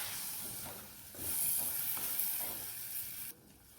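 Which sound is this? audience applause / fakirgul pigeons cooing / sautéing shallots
sautéing shallots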